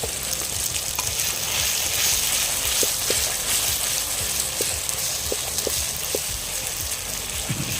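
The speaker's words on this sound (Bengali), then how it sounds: "এবার আদা মাটা দিয়ে দেবো" Ginger paste frying in oil with browned onion and garlic, cooking in a clay pot for South Indian style prawn biryani: a steady close hiss of sizzling with scattered faint clicks and pops, no voices.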